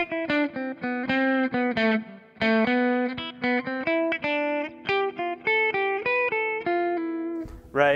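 An electric guitar run through distortion plays an improvised single-note melody in position over a static harmony, mostly on the second and third strings. The notes are picked in a steady, even stream with short breaks between phrases and no voice.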